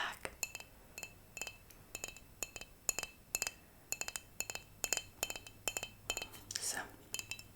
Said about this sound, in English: So, this is a nice cold glass of water.